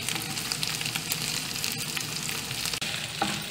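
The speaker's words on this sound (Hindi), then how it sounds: "ऐसी आवाज़ आना चट चट चट चट। आप कुकर में बनाएंगे तो ऐसी आवाज़ नहीं आएगी" Keema fries in an open pot, a loud, dense crackling sizzle with sharp spitting pops running steadily throughout.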